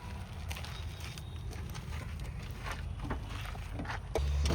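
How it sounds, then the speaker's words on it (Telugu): A 2014 Maruti Suzuki Wagon R VXI with a 998 cc petrol engine idles close by, giving a steady, even low rumble that holds throughout with no speech. "ఇంజన్ సౌండ్ అనేది చెక్ చేసుకోవచ్చు"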